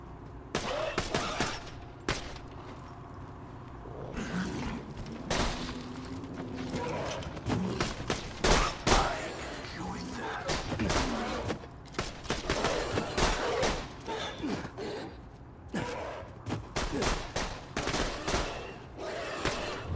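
Rapid bursts of gunfire in a video game, clattering shots in irregular volleys mixed with mechanical clicks and clip-clop-like thuds, fairly loud and busy throughout with no talk.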